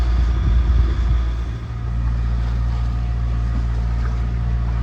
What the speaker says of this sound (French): Voilà, toujours petite navigation moteur.